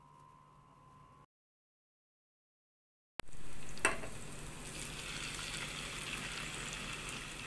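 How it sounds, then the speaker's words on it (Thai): Pork added to hot oil with golden fried shallots bursts into a loud, steady sizzle after a brief silence, frying continuously up close with no talk. "หลังจากนั้นนะคะเดี๋ยวเราใส่หมูลงไปค่ะ"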